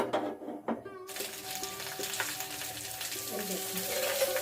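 A duck egg wrapped in banana leaf cooks under a covering plate on a gas stove, giving a steady soft sizzle and hiss that starts after a few clinks and continues evenly at low volume.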